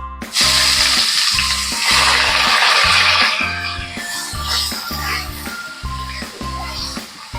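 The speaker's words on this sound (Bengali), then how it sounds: "আমি আগে পেঁয়াজটা এখানে দেবো" Onion hitting hot oil in a pan for a doi soya curry, a loud broadband sizzle that flares up near the start and stays steady, with a rhythmic low thumping underneath throughout.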